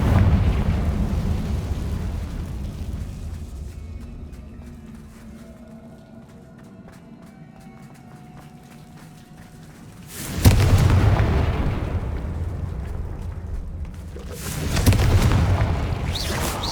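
Confringo blasting spell explosions in Hogwarts Legacy, a low rumbling tail fading from a first burst, then two sharp loud booms later, each decaying into roaring rumble.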